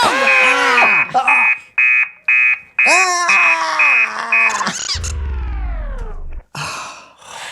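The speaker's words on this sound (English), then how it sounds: "Would you like to hear my alarm? Yes, and make it loud." A robot's alarm: loud, repeated electronic beeping in short pulses, mixed with strained vocal cries and a low rumbling buzz, close and harsh.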